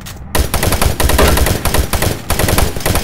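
Rapid gunfire from weapons in the co-op first-person shooter Doom 3, loud and sustained in dense bursts of automatic shots with only brief gaps, no talking over it.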